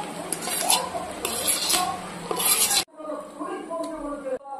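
Boiled potato mixed into vegetables in a pan for vegetable chops, with a spatula scraping and clinking against the metal in a busy rhythm under a light sizzle. The sound drops quieter partway through, and music plays underneath.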